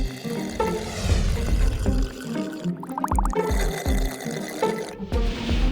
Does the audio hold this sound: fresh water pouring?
yes